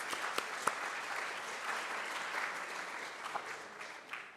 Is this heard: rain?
no